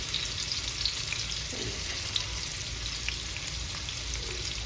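Masala-coated fish fries in a generous amount of oil, a dense, constant close sizzle with faint crackles and a soft scrape as spice mix is scattered over the pan.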